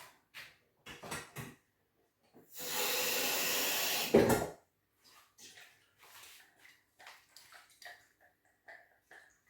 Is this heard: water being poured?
yes